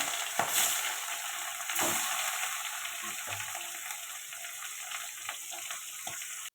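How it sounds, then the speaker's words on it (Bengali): Fish sizzles steadily in hot oil in a pan, a close continuous crackling hiss with a few soft pops and clinks from the pan. "এখন মাছটা ভেজে নেব, তার জন্য তেল দিয়ে দিলাম।"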